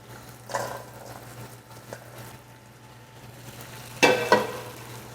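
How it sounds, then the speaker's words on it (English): Shrimp cooking in a pan gives a low, steady sizzle under a constant hum, with a couple of sharper spits and pops, the loudest pair near the end, close by with no talking. "And that shrimp is cooking."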